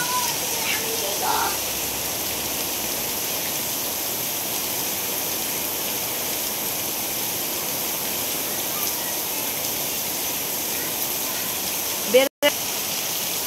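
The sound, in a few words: heavy rain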